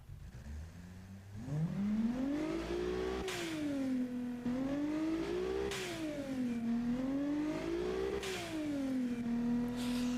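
Simulated car engine in the Automation game, slightly knocking, revving up and down in slow repeated sweeps during a test run, steady and close with no talk.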